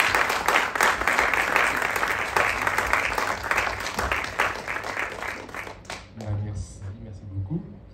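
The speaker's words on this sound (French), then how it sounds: "Moi, j'aimerais bien entendre des applaudissements." An audience at an evening lecture breaks into sustained applause, thick and fairly close, fading toward the end as a voice begins speaking over the last scattered claps.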